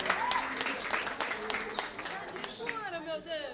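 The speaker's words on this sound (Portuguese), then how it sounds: "novamente, um aplauso" Applause from an audience at a school reading programme event, clapping mixed with a voice speaking over it, fading as the talk takes over.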